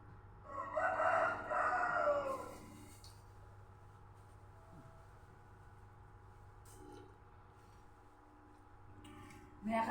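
A rooster crows loudly and close for about two seconds, followed by quieter background noise and faint distant sounds.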